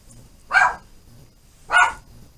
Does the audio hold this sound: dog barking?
yes